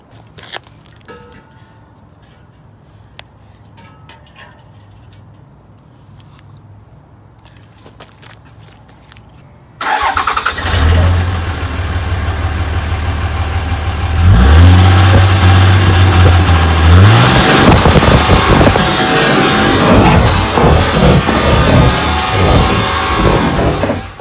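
A Cummins diesel truck ticks over faintly with scattered footsteps, then bursts into a loud, close, sustained roar of revving that swells further midway and holds to the end.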